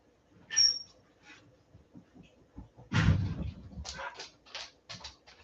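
A pup whimpers and yips in brief high bursts near the start, followed by soft shuffling and a loud cluster of broadband rustles and short dog vocal sounds, close by with no talk.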